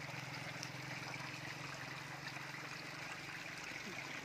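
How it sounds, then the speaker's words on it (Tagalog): A small river or stream flowing beside a fish pond, giving a steady, even wash of running water with a low hum underneath, continuous and moderately faint throughout. "Ito na yung ano, yung ilog, yung sapa na malapit sa fish pond."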